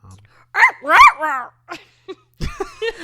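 A person imitates a yelping dog with a few short, high, strained yips and whimpers, followed by brief bits of speech, close and moderately loud.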